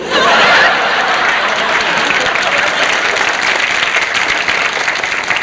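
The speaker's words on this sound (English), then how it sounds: "And the crowd goes wild." Studio audience on a 1960s variety TV show applauding loudly after a juggling trick, a sustained wash of clapping with a few chuckles.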